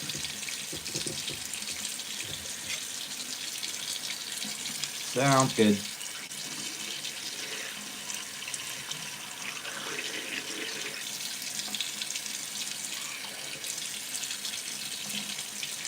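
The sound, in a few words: hot water running from tap into sink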